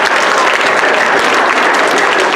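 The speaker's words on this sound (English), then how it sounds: "let's give him a round of applause" Audience at an eighth-grade winter orchestra concert claps steadily, a dense, loud wash of applause from many hands filling the hall without pause.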